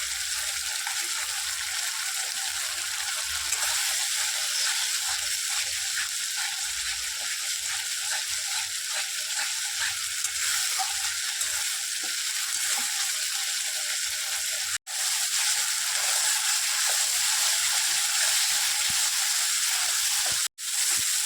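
Masala with turmeric and salt sautés in a pan, giving a steady close sizzle and hiss that holds at an even level, broken only by two abrupt momentary cutouts.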